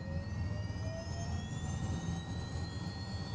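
A Pilatus PC-12 turboprop engine starts up in Flight Simulator X, a steady turbine whine rising gradually in pitch over a low, constant rumble, close and alone.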